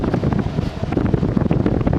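A 1995 Frigidaire Signature 2000 window air conditioner rated at 5450 BTU runs with a steady, close, rushing whoosh of fan air and no breaks.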